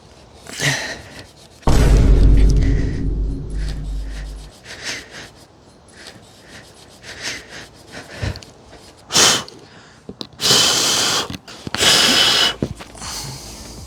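Scotch-Brite pad scuffing a belt pulley on a tuned Nissan GTR engine, uneven rubbing bursts up close with a few loud knocks and thumps in between, no talking.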